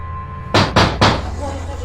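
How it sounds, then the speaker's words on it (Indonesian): Three loud, evenly spaced knocks strike a door from outside in an Indonesian horror film, each a heavy thud over a low steady hum. "tiba-tiba terdengar suara ketukan pintu dari luar."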